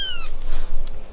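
A hungry two-week-old orphan kitten gives a single short, high meow right up close, and soft handling noise follows.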